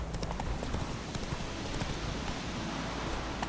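Roach, a horse in The Witcher 3, gallops with quick, close clip-clopping hooves in a brisk repeating rhythm over a dense background rustle.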